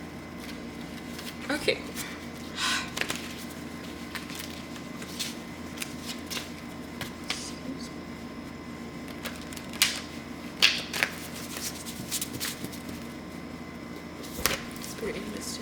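Cards for a health reading are shuffled and laid out in repeated quick riffling bursts and soft slaps, close by, with a voice speaking briefly.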